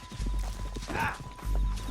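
Horse hooves clip-clopping in the Red Dead Redemption 2 video game, a brief run of quick hoofbeats close up with a short whinny, while people talk over it.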